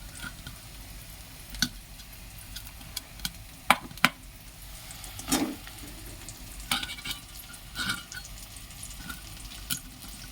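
Two fish frying in a hot pan give a steady low sizzle, broken by several sharp clicks and scrapes of utensils against the pan.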